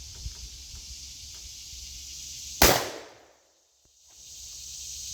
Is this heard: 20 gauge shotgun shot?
yes